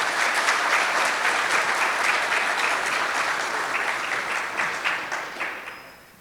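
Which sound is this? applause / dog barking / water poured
applause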